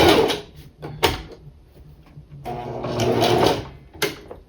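A sewing machine stitches through a wig cap and hair in bursts, with short runs near the start, a longer steady run in the middle and a brief run at the end, close and fairly loud with no talk.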